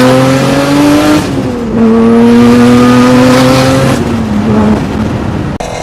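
A 2002–2005 first-generation Acura NSX with a mid-mounted V6 drives in a Need for Speed game, its engine loud and close, revving through rising gear pulls with shifts between them.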